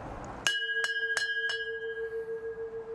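A brass speed record bell aboard a 40-foot performance cruising catamaran rings four quick, clear strikes, each leaving a bright, sustained metallic tone that hangs and slowly fades, close and fairly quiet.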